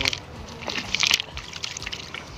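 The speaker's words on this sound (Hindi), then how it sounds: "तो यहाँ पे थोड़ा पैर धो के फिर चलते घर पे।" Cold water poured to wash dirty feet outdoors in an Indian village: soft splashing and trickling with a few brighter splashes, close and fairly quiet.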